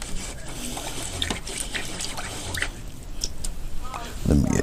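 Paint mop brush rinsed in a water bucket, producing soft, intermittent trickling and dripping sounds with small splashes, heard close and fairly quiet, followed by a louder slosh at the end.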